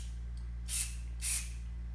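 Two short hissing sprays of fuel burst from the small brass high-speed nozzle of a Ryobi leaf blower carburetor with the high-speed screw removed, each lasting about a quarter second over a steady low hum.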